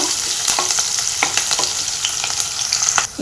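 Finely chopped onions frying in a pan for chole: a loud, continuous close sizzle broken by frequent scraping stirs and small crackles. No voice is heard.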